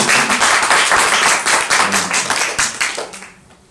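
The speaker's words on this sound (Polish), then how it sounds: "Proszę o oklaski." An indoor audience at a comics artist's talk in Łódź claps steadily, dense and loud, then the applause thins out and fades away near the end.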